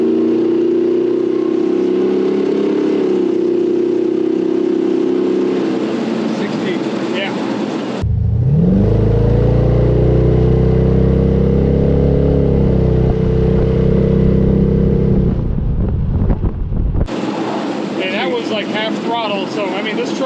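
A modified 355 small block V8 in a 1951 Chevrolet 3100 hot rod pickup accelerates hard, its low engine rumble rising and swelling, heard from inside the cab beneath steady conversation.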